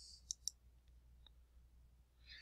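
Two sharp mouse clicks in quick succession from a computer mouse right-clicking a chart point in a spreadsheet, followed by a couple of faint ticks in an otherwise quiet room.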